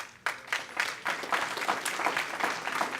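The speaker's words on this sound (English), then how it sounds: "Give yourself a round of applause." Graduates at a 2018 Omnitech graduation ceremony break into loud applause after a sudden start, a dense wash of clapping that swells in waves and keeps going.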